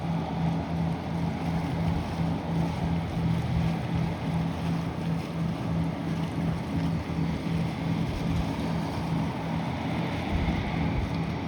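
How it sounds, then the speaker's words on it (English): A sport fishing boat's engine drones as it heads in along the Stranahan River near Dania Beach, Fort Lauderdale, a steady low rumble mixed with water wash and wind buffeting the microphone. "We got this sports fish boat heading in."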